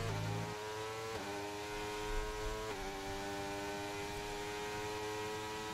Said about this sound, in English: I'll just go through the engine sounds.